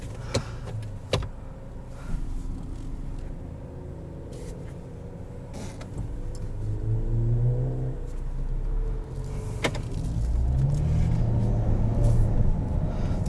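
A 2017 Ford Escape SE pulling away from a stop, heard from inside the cabin as a low engine hum that rises and swells as the car accelerates, with a couple of sharp clicks early on.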